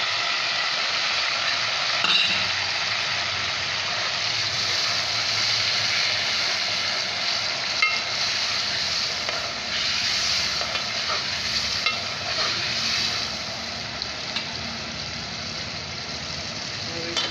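Keema mince with ginger and garlic frying in a pan, a continuous loud sizzle with stirring scrapes and occasional clinks of a utensil, with a voice talking briefly over it.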